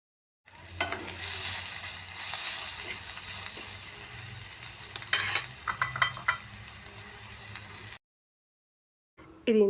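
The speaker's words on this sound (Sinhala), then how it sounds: "අපේ බත් ටිකයි ලීක්ස් ටිකයි එකතු කරගෙන හොඳට මේක මික්ස් කරගන්නවා" Rice and leeks stir-fried in a pan, a steady close sizzle with scraping utensil strokes and clinks that rises near the middle, then cuts to brief silence before the frying noise returns.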